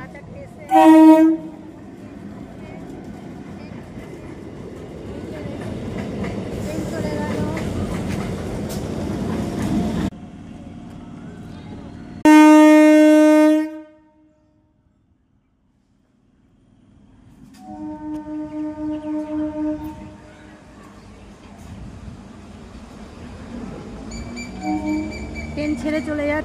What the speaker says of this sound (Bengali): দেখুন আমাদের ভাতারের ট্রেন ছেড়ে চলে যাচ্ছে।